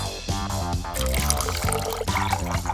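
Water is poured into an empty leftover pickle jar, a bubbling, gurgling pour with rising glassy resonance, heard close and steady over a few seconds.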